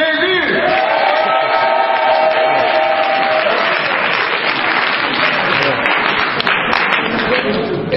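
A church congregation cheers and applauds in a loud, sustained wash of clapping and voices that fills the whole stretch, with a lone voice ringing briefly above it near the start.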